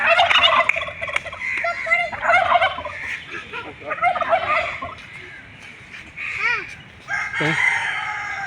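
Poultry, including a large hen, calling loudly and repeatedly in a close, busy chorus of gobbling, crowing and clucking that overlaps throughout, with occasional faint human voices beneath.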